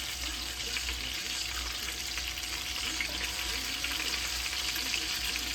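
Fish fries in hot oil in a pan, a steady close crackling sizzle that carries on evenly throughout with no talking.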